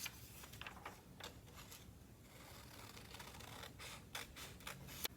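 Scissors cut out a traced paper handprint in a quiet room, a steady series of soft close snips and paper rustles, with a few sharper clicks near the end.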